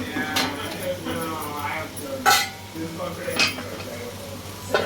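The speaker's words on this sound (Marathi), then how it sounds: "तर आता मी याचं झाकण काढते" A lid comes off a pot of steamed kothimbir vadi, a coriander snack, giving a few sharp metallic clinks and scrapes of metal cookware close by, with someone talking over them.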